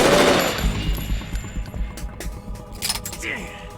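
Automatic gunfire in the Metal Gear Solid 2 video game, loud bursts at the start fading into scattered shots and clanks over a dense mix of game sound effects.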